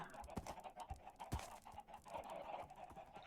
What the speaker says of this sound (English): The clucking, the terrible clucking.